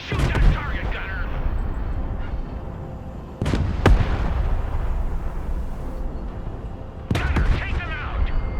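Artillery and gunfire from the Broken Arrow war game, with sharp loud blasts near 0.5, 3.8 and 7.2 seconds over a continuous rumbling battle din and crackling echoes.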